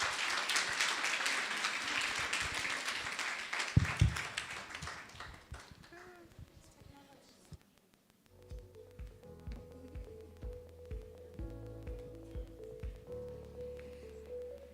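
Audience applause at a women in business seminar, a dense wash of clapping that swells and then fades out over several seconds, giving way to a music-like tonal passage.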